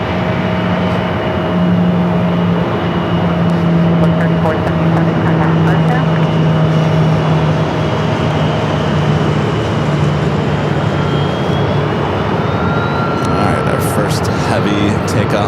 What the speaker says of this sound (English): Heavy takeoff of the stream heading back to LAX. Converted 767 to 300ER.